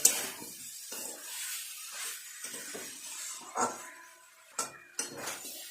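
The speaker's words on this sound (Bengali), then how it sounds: "খুব ভালো করে আবারও এইভাবে একটু সব কিছু কষিয়ে নেব।" Vegetables stir-fried with spices and sugar in a pan for a navratan korma, heard as repeated scrapes and clinks of a spoon against the pan, with brief sharper knocks between quieter stretches.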